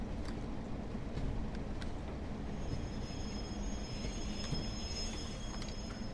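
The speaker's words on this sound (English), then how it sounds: "those brake squeals are awesome" Brakes squeal on a Class 142 Pacer train in Train Sim World 4, a thin high tone sustained over a steady low rumble of wheels and carriage noise.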